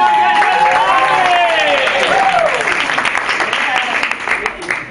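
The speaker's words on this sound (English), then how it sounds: "Give a warm round of applause" Audience applause at an improv dating-game show, a steady bed of clapping under loud cheering and whooping voices that rise and fall, gradually thinning toward the end.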